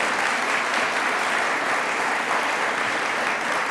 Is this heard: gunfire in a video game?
no